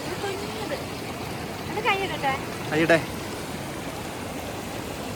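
Small waterfall stream running steadily on a cold high-altitude mountain pass, a continuous broadband rush close by, with people talking briefly over the flow midway through.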